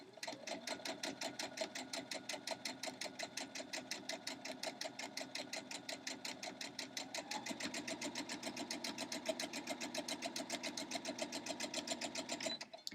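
Sewing machine stitching fabric for a patchwork heart quilt block, a fast, even mechanical chatter running steadily throughout and shifting slightly in pitch partway through, with no talking.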